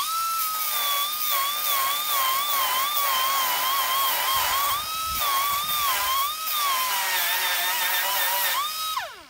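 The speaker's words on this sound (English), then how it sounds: "So we're going to start with our die grinder" A die grinder cuts off the wire nibs on the ends of wire mesh with a loud, steady high-pitched whine that wavers as the tool bites and drops away at the end.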